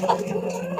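Hens of new Brahma and crested breeds clucking in a village coop, a few short soft clucks heard close in a brief moment.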